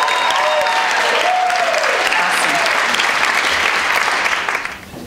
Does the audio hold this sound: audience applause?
yes